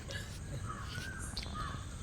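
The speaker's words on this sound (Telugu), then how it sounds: "బర్డ్స్ చూడండి సైలెంట్గా ఉంటే కూ కూ అంటున్నాయి" Faint, short crow-like calls carry through the quiet of a forest walkway on Malabar Hill in Mumbai, sounding distant against a soft background hush.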